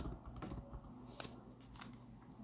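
Quick keystrokes on a computer keyboard, a short burst of soft irregular taps, close and quiet, with no talking.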